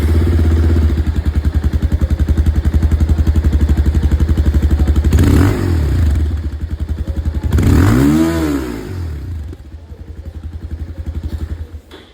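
A Bajaj Pulsar 220F motorcycle with its standard single muffler idles with a steady low exhaust thrum, then blips the throttle in a couple of loud revs before settling back to a rumble.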